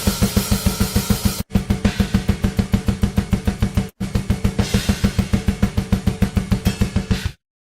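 A fast, relentless plugin-generated metal hammer blast beat on drums, kick and snare hammering in rapid even pulses, cutting out briefly twice before stopping.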